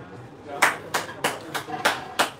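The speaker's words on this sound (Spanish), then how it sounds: "A ustedes este aplauso" Five separate, evenly spaced hand claps ring out up close, sharp and slightly echoey, closing a three-hour prep class for the Saber exams.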